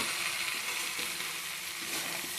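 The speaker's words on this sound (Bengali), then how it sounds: "মাংসের মশলাই দিচ্ছি সব, আদা বাটা, জিরা বাটা," Ginger paste, cumin paste, garlic and onion fry for a soybean curry, a steady bright sizzle of hot oil up close with faint spoon movements, no talking.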